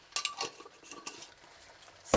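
A utensil stirs a thick, cheesy slider mixture of cheese and onion powder, giving a few light clinks and scrapes against the dish, quiet and close.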